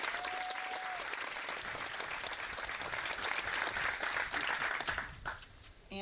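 Sustained applause from a graduation audience at a 2021 Adventist academy commencement, many hands clapping steadily for several seconds before tapering off, with a brief tone near the start.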